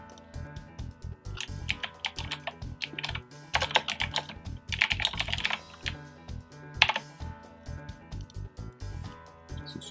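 Rapid, irregular clacking of a computer keyboard as text is typed during video editing, clustered bursts of keystrokes with short pauses, close and clear with no talking.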